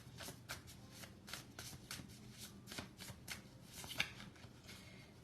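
Tarot and oracle cards shuffled by hand, a steady run of soft riffling flutters and papery slaps repeating for several seconds at close range, fairly quiet.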